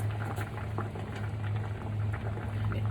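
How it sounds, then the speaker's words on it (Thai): Thai sour curry with pineapple and canned fish boiling steadily in a pot, a continuous close bubbling and popping with a low rumble and no voices. "เริ่มเดือดแล้ว"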